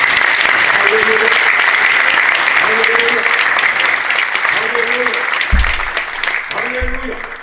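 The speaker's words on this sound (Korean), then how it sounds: "한번 하나님께 박수로 한번 감사 영광을 드립니다" A church congregation applauds steadily and loudly throughout a worship service, a dense continuous wash of clapping with a few voices speaking beneath it.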